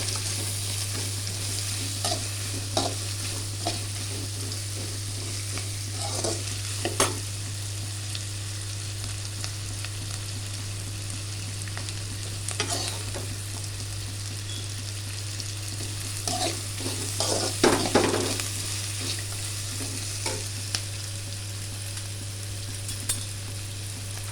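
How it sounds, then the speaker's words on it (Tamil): Dried fish fries in hot oil, a steady, close sizzle running throughout, punctuated by repeated scraping clinks of a utensil stirring the pan. "கொஞ்சம் வறுபட்டு வந்த கருவாடு நல்லா வறுத்ததுக்கு பொரிஞ்சிடணும்"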